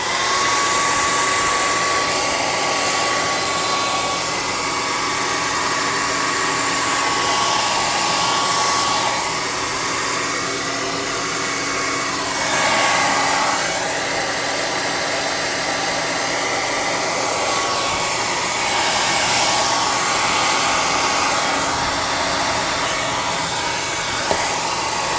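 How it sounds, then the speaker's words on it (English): A hair dryer used as a hot air gun blows continuously to dry a clear coat on a crafted tabletop vault door, a steady close whooshing hum with slight shifts in tone as it moves, no talk. "When I say hot air gun, all I'm talking about is a hair dryer."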